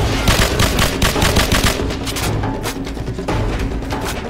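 Sustained rapid automatic gunfire in Call of Duty 4: Modern Warfare, loud and dense, with bursts continuing throughout without pause.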